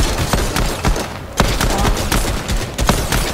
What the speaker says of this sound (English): Let's kill him with the gold pistol.